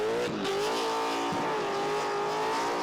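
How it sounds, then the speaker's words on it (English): Car performing a smoky burnout skid at Summernats, a loud sustained engine howl at high revs with squealing tires, holding steady and close throughout with slight pitch wavers. "this is a good skid"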